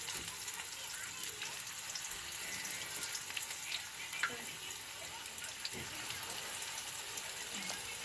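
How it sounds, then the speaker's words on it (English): Tree spinach vegetable pakora deep fries in hot oil over a low flame, giving a faint, continuous crackling hiss with a few small pops. "Now the oil is already heated. I'm going to fry this in deep fry."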